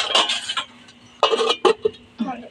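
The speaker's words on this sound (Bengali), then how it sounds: "এবার ঢাকা দিয়ে রেখে দেবো।" Metal clatters and clinks as a lid goes onto a cooking pot in a home kitchen, with a few sharp, close knocks in separate bursts and quiet gaps between them.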